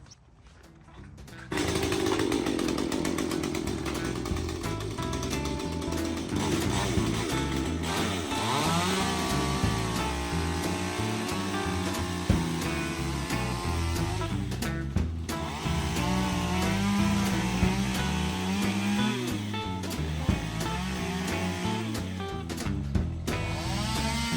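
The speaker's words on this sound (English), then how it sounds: "how a regular homeowner with a chainsaw can go ahead and make a pumpkin" A homeowner's chainsaw with a stock bar carves into a pumpkin, its engine starting up and then running loud and steady with a rising and falling whine as it cuts.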